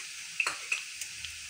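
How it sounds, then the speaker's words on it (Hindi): Coarse garlic-ginger paste sizzling in hot oil with browned onions while being stirred for aloo keema, with a steady frying hiss and a few sharp stirring clicks. "अब हम लोग इसके अंदर लहसुन अदरक का पेस्ट, ये हम लोगों ने इसको करके रखा हुआ था दरदरा सा, ये डाल रहे हैं।"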